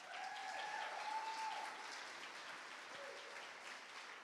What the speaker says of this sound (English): I wanted to give a shout out to her and give her a big round of applause.